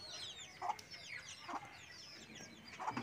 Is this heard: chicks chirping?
yes